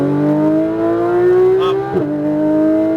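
Porsche 991 GT3 RS engine pulling steadily on throttle at Speed Vegas, a loud, close, rising tone held through the clip with a brief blip near the end.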